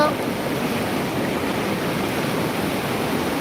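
Water pours from a breached lake embankment in a loud, unbroken roar close to the microphone, steady throughout.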